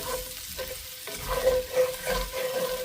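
Potatoes frying crustily in a pan while being stirred, with a soft steady sizzle and a few louder scraping stir strokes across about three seconds, close and alone.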